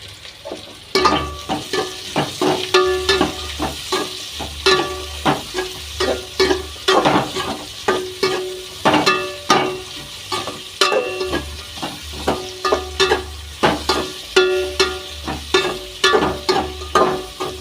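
Onion frying for a Tamil kara kuzhambu made with bitter gourd, a spoon scraping and stirring the pan in repeated rhythmic strokes over a continuous close sizzle, with clinks of utensil against metal.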